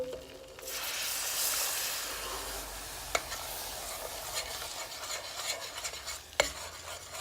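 Milk being stirred into a pot of bechamel sauce for a Bolognese lasagna, a steady close scraping and swishing with a faint sizzle underneath and two sharp clinks of the spoon against the pot.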